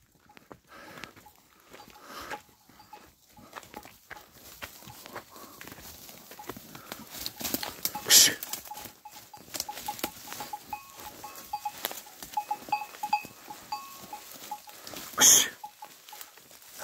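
A flock of sheep moves through oak scrub on a farm, giving a steady scatter of hoof steps and rustling with occasional bleats, and two louder bursts stand out near the middle and the end.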